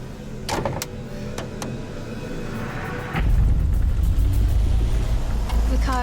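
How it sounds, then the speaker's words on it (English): An overheating car engine labors through the outback, a low droning rumble that swells louder partway through and holds steady, with faint high clicks and ticks above it. "the strain on the engine is massive"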